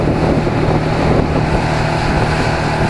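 Outboard engine pushes a sailboat at cruising speed on plane, giving a steady, loud motor drone mixed with rushing water and wind buffeting, with no break across the stretch.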